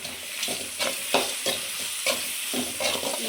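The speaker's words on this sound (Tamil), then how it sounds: "காஞ்ச மிளகாய் போட்டு வதக்கிடுவோம்." Onions and dried chillies sautéing in a pan with salt and turmeric, with steady sizzling broken by repeated scraping stirs at an even rhythm, close and moderately loud.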